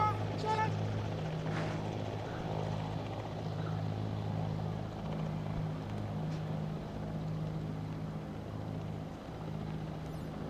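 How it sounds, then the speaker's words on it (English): Three aircraft fly past in formation at an Indian Air Force Day parade, making a broad, distant droning roar that holds steady over open-air ambience. "the fly past of the three B-17 V5 in perfect formation flying past"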